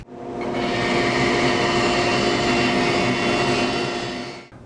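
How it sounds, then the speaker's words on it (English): A bandsaw rips through kiln-dried maple leg billets, a loud, continuous whining drone that swells quickly, holds steady for several seconds and then cuts off sharply. "to cut these billets, it's much safer to do it on the bandsaw"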